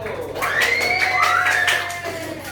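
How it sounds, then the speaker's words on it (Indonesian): In a classroom, children cheer and shout loudly as a student group is called to the front, with some scattered clapping under the voices. "tepuk tangan untuk kelompok satu."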